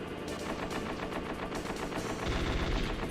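Sustained machine gun fire from the Metal Gear Solid video game, rapid dense bursts continuing throughout and growing heavier toward the end, loud with no talking.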